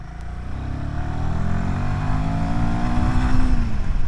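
A 2024 Royal Enfield Himalayan 450 motorcycle is ridden, and its engine note climbs and shifts steadily as it accelerates, loud and close, under wind noise, with no speech.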